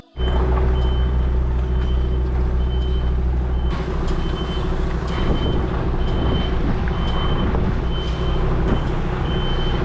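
Truck reversing on a narrow UK country road, its reversing alarm beeping at a regular pace over a loud, steady diesel engine drone, with a brief air-brake hiss near the start and no talking.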